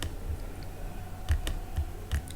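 Keys tap on a computer keyboard in a few sparse, close clicks over a steady low background hum.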